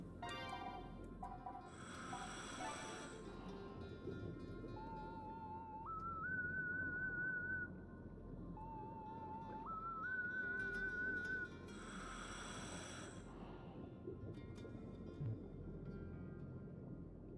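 A character in the video game Blue World whistles two short rising phrases, each stepping up in pitch, with a pause between them, set over a steady ambient game backdrop with no talk.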